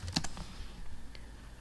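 A few quick keystrokes on a computer keyboard clatter close by, with a short burst of clicks at the start and a faint tap later, otherwise quiet room tone.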